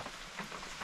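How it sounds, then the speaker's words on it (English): Rain falling at a fishing lake, a steady soft patter of drops on surfaces, faint and continuous through a brief moment with no talk. "Yeah, it's raining, isn't it? It's always raining."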